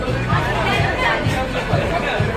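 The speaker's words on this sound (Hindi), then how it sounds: "बहुत ज़्यादा भीड़ है।" A crowded restaurant on Independence Day fills with a dense, steady babble of many overlapping voices, close and loud, with no single voice standing out.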